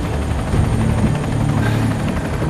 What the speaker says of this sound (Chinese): 人家是武装直升机